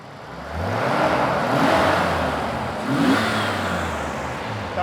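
A fully warmed-up Toyota 5M-GE fuel-injected L-Jetronic engine revs twice to open throttle, rising to a loud sustained roar each time before easing back, heard up close with no talk.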